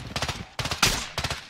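Rapid automatic gunfire in a shooter video game comes in three quick close bursts, with sharp cracks repeating in steady rhythm over about a second and a half.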